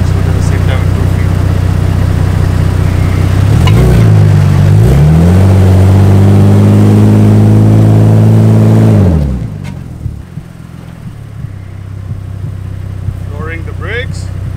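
A straight-piped BMW E46 revs hard with the brake held, the engine climbing from a rough idle into a loud sustained roar for several seconds, then dropping back to a low idle with brief voices near the end.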